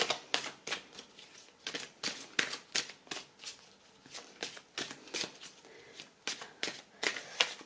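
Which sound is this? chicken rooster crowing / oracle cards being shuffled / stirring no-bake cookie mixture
oracle cards being shuffled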